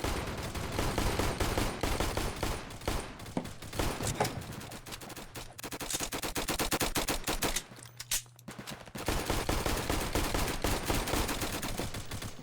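Rapid automatic gunfire in the Flag Wars video game, loud sustained bursts of shots with a brief lull near the end before the firing resumes.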